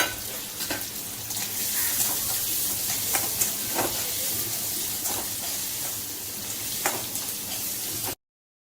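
Finely chopped onions frying in a pan until golden: a steady, close hiss and sizzle that runs throughout, broken by occasional crackles and stirring scrapes, with no talking, before it cuts off abruptly near the end.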